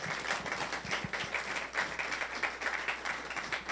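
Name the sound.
studio audience applauding a guest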